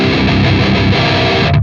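Electric guitar played through a NU-X MG-30 modeler with a Chop Tones impulse response, giving a loud, dense distorted tone of sustained chords that ring steadily before cutting off near the end.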